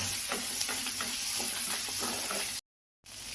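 Onions, chilli and tamarind being sautéed in a pan give off a continuous close sizzle with repeated light stirring clatter, cutting out briefly near the end before resuming.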